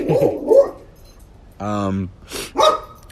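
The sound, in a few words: dog barking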